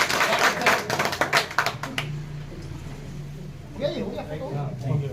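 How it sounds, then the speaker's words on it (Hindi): An audience at a public gathering in India claps loudly together in a dense burst of applause lasting about two seconds. The clapping fades into quieter room noise with brief scattered sounds afterward. "जोरदार ताली बजाकर एक साथ"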